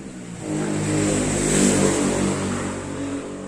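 A car engine revving during street racing, a loud sustained roar that swells to a peak and then eases off, steady and close with no talk over it.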